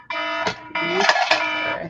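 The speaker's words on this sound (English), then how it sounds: "That was my alarm." An alarm goes off with loud, bright electronic tones in repeating bursts that break briefly and resume, sounding alone with no talking.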